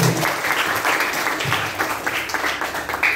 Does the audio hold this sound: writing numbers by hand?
no